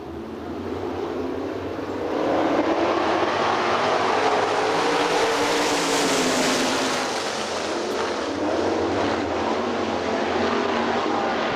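Sprint cars roar around a dirt oval at Hartford Speedway Park in a heat race, a dense sustained engine din that swells as the pack passes close, then holds steady.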